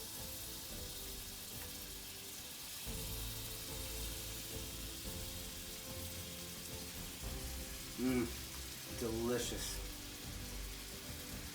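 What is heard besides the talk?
cod frying in a hot pan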